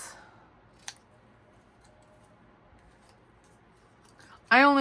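Scissors snip once, crisply and close, while paper craft pieces are cut apart in a quiet room, and a voice begins speaking at the very end.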